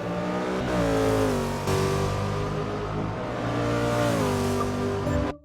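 A Corvette GT3 race car engine in a racing video game screams at high revs, with gear changes shifting the pitch up and down across the clip and no voices.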